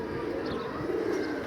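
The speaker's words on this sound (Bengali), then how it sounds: "এই যে কবুতর নামতেছে" Pigeons settling in coo briefly, a low, soft murmur that holds steady for a moment at close range, with no voices.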